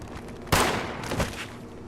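Gunfire in the video game Fallout 76: a sharp, loud burst of shots opens abruptly, then a second, softer volley follows about a second later, with no talk.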